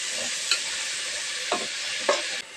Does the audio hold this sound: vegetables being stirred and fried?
yes